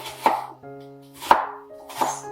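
A knife roughly chops white onion for eggs in purgatory: three distinct, crisp strikes on a cutting board, evenly spaced, with a faint steady hum between them.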